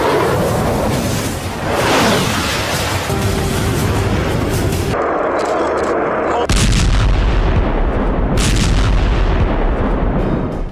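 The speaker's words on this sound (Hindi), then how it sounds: "एक के बाद एक 5 मिसाइल ब्लास्ट से पूरा इलाका दहल उठा" Heavy missile explosions boom one after another, five in succession, loud and close, with a rolling roar and crackling blasts filling the whole stretch.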